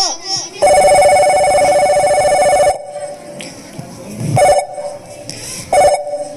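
A telephone rings loudly in a long electronic burst, followed by two shorter rings and some rustling in between.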